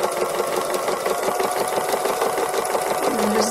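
Sewing machine stitching free motion embroidery on a fabric cow, zigzagging around hair and eyelid details; a steady, fast, continuous mechanical whirr and rattle, close and loud with no talking.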